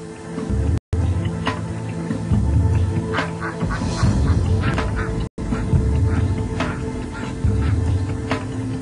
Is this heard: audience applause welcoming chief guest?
no